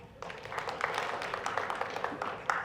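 A lecture audience claps in a steady, moderate patter of many hands. The applause runs continuously for a couple of seconds and ends with a louder final clap.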